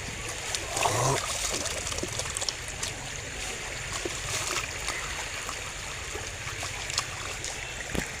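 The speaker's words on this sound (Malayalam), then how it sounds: "കൈകാലൊക്കെ ഒന്ന് കഴുകട്ടെ കേട്ടോ" Running water trickles and splashes steadily as hands and feet are rinsed outdoors, a close, continuous pour with a few sharper splashes and no talking.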